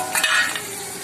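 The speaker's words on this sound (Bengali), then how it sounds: "তেলটা গরম হয়ে গেছে, আমি আস্তে আস্তে ক্যাপসিকাম দিয়ে দেবো।" Capsicum pieces drop into hot oil with a sudden burst of sizzling and a faint clink of a utensil, close by, fading to a softer steady fry within a second.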